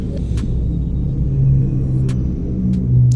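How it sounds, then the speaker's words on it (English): Loud, low vehicle rumble from outside, like a pod race, droning steadily throughout and swelling slightly toward the end, with a few faint clicks and no talking. "There's pod race going outside."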